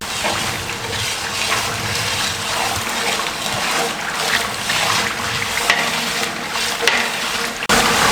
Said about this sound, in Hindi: ये 3 से 4 मिनट मैंने ये मसाले सारे भून लिए